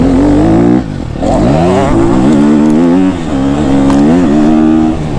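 A KTM 250 SXF dirt bike engine revs loud and close, climbing through repeated rising and falling pitch sweeps as the rider works the throttle, with a brief dip between pulls.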